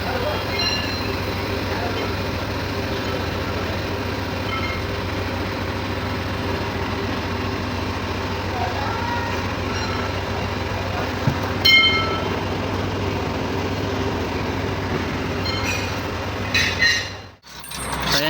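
A damaged vehicle differential with broken spider gears, in neutral while the propeller shaft is turned, gives a steady, continuous metallic grinding rumble with a brief knock near the end.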